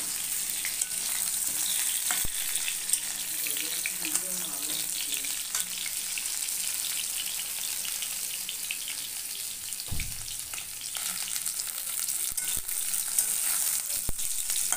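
Potato and pointed gourd pieces frying in oil, a continuous even sizzle and hiss with an occasional soft clatter of stirring, close by and without speech.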